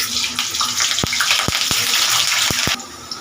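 Potatoes dropped into smoking-hot mustard oil in a wok give a loud, dense sizzle with several sharp pops spaced through it, before the hiss suddenly drops away near the end.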